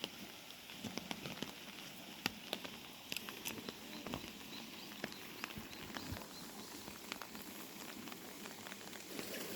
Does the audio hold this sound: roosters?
no